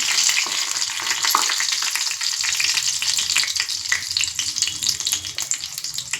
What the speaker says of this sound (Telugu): పచ్చిమిర్చి కూడా వేసుకొని వేయించుకున్నాము